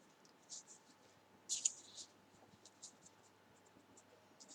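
Pen scratching across paper while notes are written out during a cost-sheet accounting lecture, soft intermittent strokes with one louder burst, faint and close.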